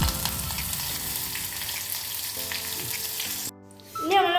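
Curry leaves crackle and sizzle loudly in hot oil, a dense steady hiss with light music underneath, cutting off abruptly near the end.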